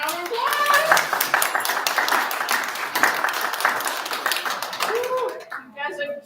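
Children at a spelling bee break into a burst of clapping that builds and fades over a few seconds, with a voice cheering over the applause.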